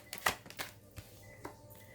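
Tarot cards slide and flick off a deck in a quiet room, a few soft, papery snaps and rustles spaced irregularly.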